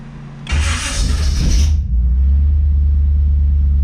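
A small-block Chevy engine cranks briefly with a high whine, then catches and settles into a steady, deep idle rumble, close by.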